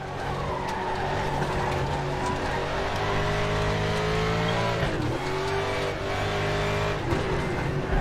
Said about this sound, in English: Bit of wheel spin in 4th gear then. That's a Mustang DTM92 for you.